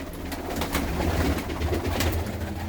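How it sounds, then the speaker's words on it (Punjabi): Pigeons in a loft coo in a low continuous murmur, many birds overlapping at moderate volume, with scattered wing flutters and clicks. "ਇਹ ਸਾਰੇ ਕਬੂਤਰ ਜਿਹੜੇ ਤੁਸੀਂ ਦੇਖ ਰਹੇ ਹੋ"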